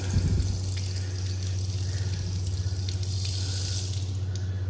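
A café water tap runs slowly in a steady, continuous stream, close by and fairly quiet, with a low hum beneath it and no voices.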